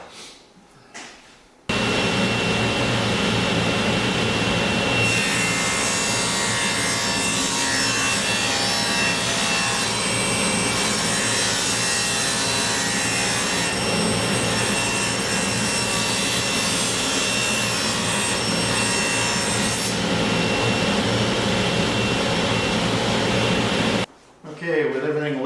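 Table saw ripping a shiplap board against the rip fence: a loud, sustained, high whining cut of wood that begins after a short quiet start and ends abruptly, with the blade winding down briefly near the end.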